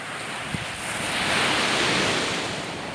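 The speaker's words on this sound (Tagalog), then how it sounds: "May alon" Sea waves roll and break on the shore, a broad hissing surge that swells and eases, with light wind noise and no voices.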